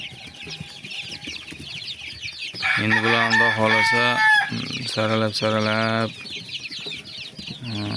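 Ornamental hens clucking and a rooster crowing close by, loud bursts of calls in the middle with a person briefly speaking and rustling farmyard noise around them.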